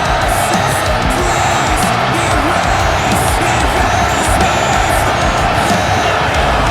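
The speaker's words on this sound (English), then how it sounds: "this crowd here is giving Chris Champ a resounding ovation here tonight" A wrestling video game crowd roaring an ovation for a wrestler, a continuous loud wash of cheering and whoops with no break.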